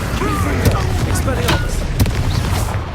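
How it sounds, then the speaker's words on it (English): Accio spell cast in Hogwarts Legacy, a whooshing magical burst with booming thuds under game combat noise, while a voice shouts over it. "Accio!"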